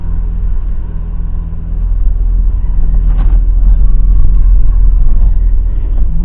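A car drives along a road in Porto Alegre's Zona Sul on a sunny Sunday, heard as a steady, loud low rumble of engine and tyres that grows slightly heavier midway, with no talk.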